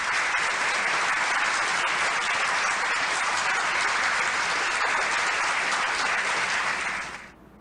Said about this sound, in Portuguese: Com vocês e com muitos aplausos,